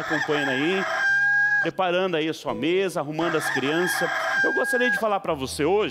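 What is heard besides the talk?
rooster crowing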